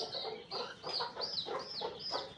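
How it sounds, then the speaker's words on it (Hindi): An Aseel breeder rooster, a Sindhi-Mewari cross, and its two hens cluck in a steady stream of rising, repeated calls, close and moderately loud, with no talk. "ये सिंधी और मेवाड़ी का क्रॉस है और साथ इसकी दो मुर्गियां हैं"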